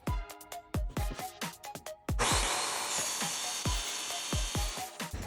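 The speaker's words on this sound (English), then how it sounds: "I'm gonna do the easy cut first, which is a long straight cut at 4 3/4. So I'm gonna line it on my table saw." Sharp, regular knocks are followed by a table saw that starts up and holds a steady, close, broadband whine while making a long straight cut through flooring, the knocking continuing underneath.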